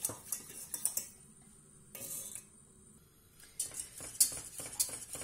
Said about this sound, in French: je ne cesse pas de fouetter et on attend que le mélange commence à s'épaissir.